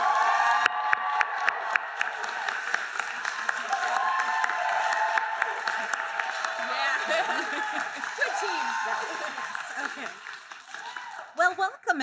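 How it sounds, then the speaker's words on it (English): A ceremony audience at a health science graduation celebration claps steadily, with scattered cheers and whoops rising over the applause; voices and chatter come through toward the end as the clapping fades. "Big round of applause, please."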